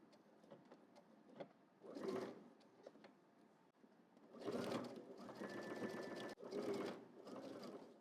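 A sewing machine basting jacket fabric in several bursts of rapid stitching, separated by short pauses and quiet handling, with faint background noise between runs.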